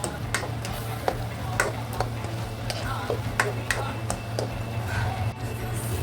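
Green beans frying in butter in a pan, giving a steady soft sizzle and crackle with occasional sharp clicks of a utensil against the pan, over a low constant hum; no voice stands out.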